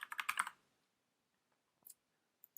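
A burst of quick computer keyboard keystrokes, about half a dozen rapid clicks entering a command in Rhino modeling software, followed by a few faint isolated clicks in an otherwise quiet room.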